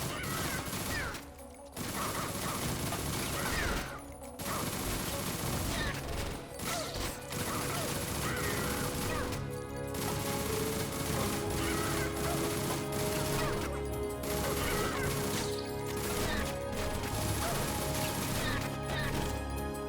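A video game gun firing continuously, a dense, loud, rapid stream of shots and clattering impacts with only a few brief pauses.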